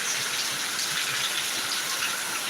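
Heavy rain pours down in Attingal, Trivandrum, a dense, steady rushing hiss that stays loud and even throughout, with no voices.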